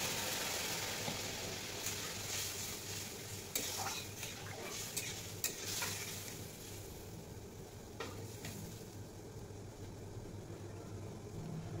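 Ridge gourd frying in a pan as water is poured in, giving a loud hiss and sizzle that settles into steady bubbling, with a few sharp clicks of a utensil against the pan.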